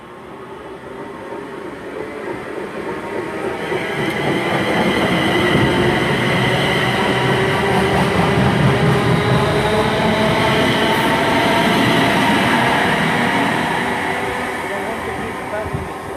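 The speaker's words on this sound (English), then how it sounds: "That's pulling up into platform 4, 350-244, and way departing is 350-115." A Class 350 electric train pulls into platform 4 at Coventry station, a steady rolling rumble and hum that swells and holds, then eases as it slows. Faint voices can be heard nearby.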